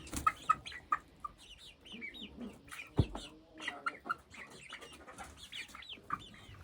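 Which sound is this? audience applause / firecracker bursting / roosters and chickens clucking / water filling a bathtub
roosters and chickens clucking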